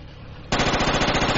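Sudden burst of rapid automatic gunfire from the Project Reality military game cuts in after a quieter background, a dense, loud rattle of repeated shots continuing to the end.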